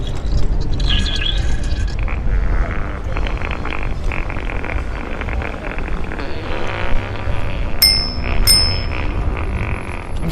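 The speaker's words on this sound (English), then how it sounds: "I'm still using the bell." Bell on a scooter ridden through Los Angeles streets, with two bright, sharp dings near the end over steady traffic rumble and wind noise.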